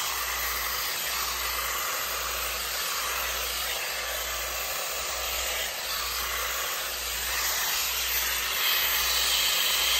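Shark FlexStyle hair styler blowing on low airflow and low heat, a steady, close whooshing hiss of air that holds level without a break.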